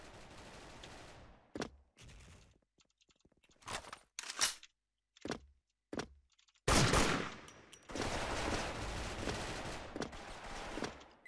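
Gunfire in the Special Force video game: scattered single shots and short bursts at first, then a long sustained volley of rapid fire, loud and close, with no talking.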